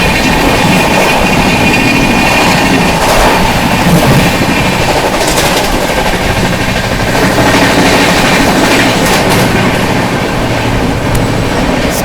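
Arunachal AC Superfast Express, train 22412, rushes past Bharatna station without stopping, a loud, steady roar of wheels and rail clatter with rhythmic clickety-clack running throughout.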